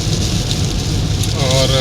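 Rain drums steadily on a car driving the road to Madurai, a dense constant patter over low road rumble, with faint voices underneath.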